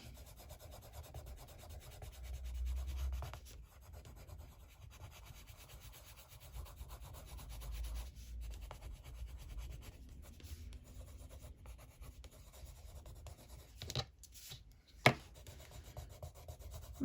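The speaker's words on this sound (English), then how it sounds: "I am just burnishing with this though now. So smoothing out all the areas." A coloured pencil drawing is burnished to smooth its areas, producing faint, continuous soft rubbing up close, broken by a couple of small clicks and taps near the end.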